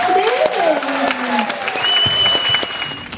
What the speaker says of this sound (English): So I'd love for you to give a big, big round of applause to Mr. Damien Mark.